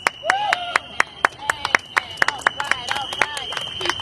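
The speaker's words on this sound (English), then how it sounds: "Keep those applause going" Scattered claps from a crowd at an outdoor Juneteenth press conference, uneven and fairly close, with a steady whistle tone running throughout and voices calling out between the claps.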